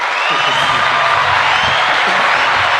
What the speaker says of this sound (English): hear the crowd going